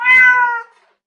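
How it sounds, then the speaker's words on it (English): A single clear cat meow, close and fairly loud, drawn out briefly before fading into silence. "Cat."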